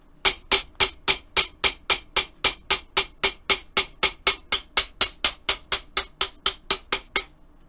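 A rapid, even series of about two dozen sharp hammer strikes on a hard surface, close and loud, then silence.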